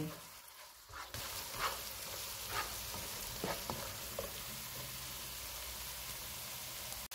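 Steady sizzling and crackling of chicken sautéing with spices and yogurt in a hot pan, with a few stirring scrapes; continuous and fairly close.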